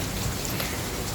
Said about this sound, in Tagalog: konting-konti na ulan.